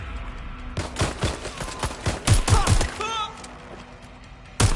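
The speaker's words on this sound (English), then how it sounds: "Suspect has opened fire!" Gunfire in the Watch Dogs Legion video game, rapid loud bursts of shots in a tight flurry, with a voice calling out over the shooting and a final blast at the end.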